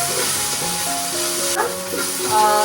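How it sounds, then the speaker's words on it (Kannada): Onions sizzle in an open pan for a pasta sauce after the lid comes off, a steady, close frying hiss with stirring scrapes, accompanied by soft tonal background music. "ಇವಾಗ ಲಿಡ್ ತೆಗೆದು ಒಂದು ಸ್ವಲ್ಪ ಸಾಟೆ ಮಾಡ್ತೀನಿ, ಇಲ್ಲಾಂದರೆ ತಳ ಎಲ್ಲ ಫ್ರೈ ಆಗ್ಬಿಡುತ್ತೆ"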